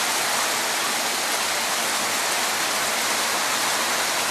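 Rainwater runs across a driveway on a rainy day, a dense, steady hiss of flowing and splashing water that stays loud and even throughout, with no voices.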